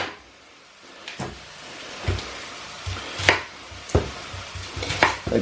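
A knife roughly chops a small onion on a board, with several separate sharp knocks spaced a second or so apart, growing a little louder and quicker toward the end, close and alone.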